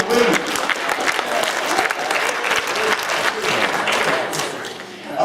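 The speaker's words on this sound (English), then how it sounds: "Let's get applause for that." Audience applause at a talk about a life of rebellion and reinvention, loud, dense clapping filling the room continuously throughout.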